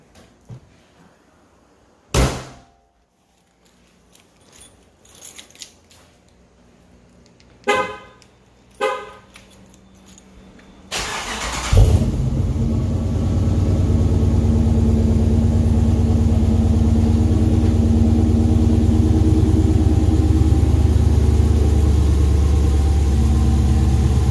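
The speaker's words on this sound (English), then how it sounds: "let's fire it up" Dodge Charger 2015 with 5.7 V8 and BBK ceramic shorty headers: several sharp chirps and taps, then the engine cranks and catches with a loud burst, settling into a deep, steady idle rumble.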